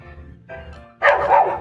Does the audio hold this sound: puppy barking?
yes